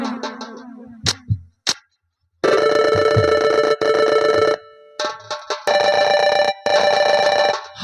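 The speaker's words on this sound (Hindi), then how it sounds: "काली तू बोल, किस लिए फोन किया" A telephone rings loudly in bursts of bright, shrill electronic trills during a Hindi nautanki folk theatre performance, with short pauses between rings and a few brief voice fragments and clicks before the ringing starts.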